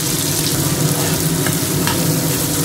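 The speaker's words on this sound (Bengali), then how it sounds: "পেঁয়াজটা একদম লাল লাল করে ভাজতে থাকবো" Sliced onions frying loudly in hot oil and ghee, a dense, constant crackling sizzle that stays close and even from start to finish.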